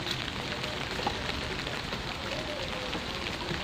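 Typhoon Christine rain falling in a small vegetable garden, a steady soft hiss of drops on leaves and surfaces, moderately faint and continuous.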